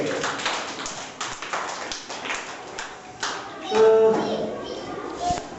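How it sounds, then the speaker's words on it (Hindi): A group of children at a primary school clap for a classmate, a burst of scattered, close hand claps and taps with children's voices mixed in, fading into the classroom hubbub. "शाबाश, ताली बजाओ इनके लिए।"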